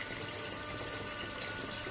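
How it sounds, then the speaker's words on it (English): Water streams steadily out of an opened valve on a self-cleaning water prefilter, a constant broadband hiss and rush with no break across the short stretch. "can you just open the valve like this, and the water will come down"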